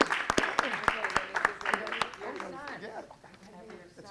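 Audience applause at a city council meeting, a burst of sharp claps up front that thins into scattered clapping, with voices talking over it throughout.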